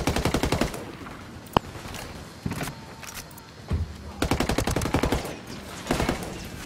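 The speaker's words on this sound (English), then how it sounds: "Opening fire." Bursts of automatic gunfire in the video game Ghost Recon Wildlands, several rapid volleys of repeated shots separated by short pauses, loud and close, with one sharp single bang early on.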